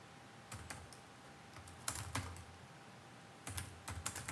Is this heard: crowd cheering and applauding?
no